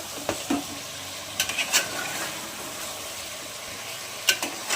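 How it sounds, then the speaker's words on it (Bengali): Chicken being sautéed for kosha in a pan gives a soft, continuous sizzle, broken by a few sharp clicks and scrapes of a utensil stirring against the pan. "মাংসটা খুব সুন্দর করে কষাতে লাগছি"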